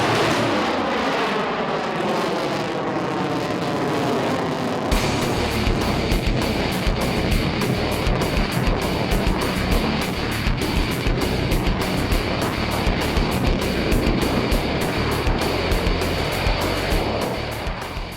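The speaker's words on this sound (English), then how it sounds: "I present the most feared combat aircraft in the world today, your F-22 Raptor!" An F-22 Raptor twin-engine fighter jet at an air show roars past, a loud sweeping whoosh that builds, then a sudden jump into a dense, sustained crackling thunder that fills the rest and fades slightly at the end.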